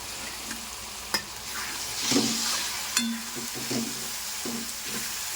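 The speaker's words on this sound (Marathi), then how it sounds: "गरम मसाला मस्त प्रकारे परतून घेणार आहोत।" Dried shrimp are sautéed in a pan with garam masala and turmeric: a quiet, low sizzle under intermittent stirring scrapes and a few sharp knocks of a spoon on the pan.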